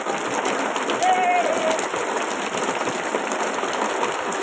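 Steady rain falls in a dense, even hiss that runs without a break, with a short chirp-like call rising briefly near the start.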